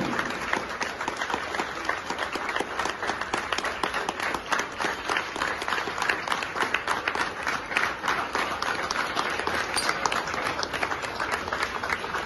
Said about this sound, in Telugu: ఇంతమంది ఉన్నారు, చప్పట్లు కొట్టండి ఒక్కసారి